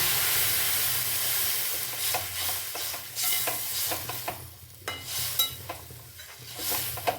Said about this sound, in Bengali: এবারে আমি পরিমাণ মতো একদম গরম জল এর মধ্যে আমি অ্যাড করে দিচ্ছি